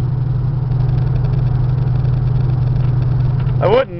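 Steady low engine drone and road rumble from inside a Chevy Caprice Classic station wagon cruising at about 50 mph, loud and constant, with a voice briefly speaking at the end.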